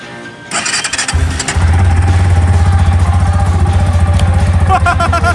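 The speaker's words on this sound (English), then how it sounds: "Hear the fuel pump? Let's cycle it a few times." A cheap sport motorcycle bought from Walmart cycles its fuel pump with a brief whir, then the engine cranks and catches, settling into a loud, steady, close idle with rapid low pulsing and some clatter.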